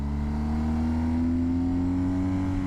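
A motorcycle engine held in gear winds up to high revs, its tone climbing steadily and smoothly over a few seconds, close and loud with no talking.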